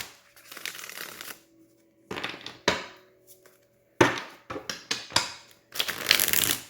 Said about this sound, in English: So let me get a good shuffle and so I can get my last card.